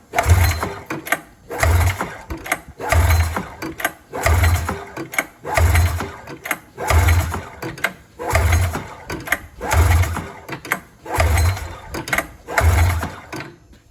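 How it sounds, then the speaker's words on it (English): An old snowmobile engine that sat for years is pull-started repeatedly with the choke on, giving a rhythmic series of about ten rope pulls and turning-over chugs at steady intervals, loud and close, without catching. "try it with the chokes and see if it'll start and run"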